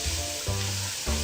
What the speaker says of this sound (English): Just fry this up for a couple minutes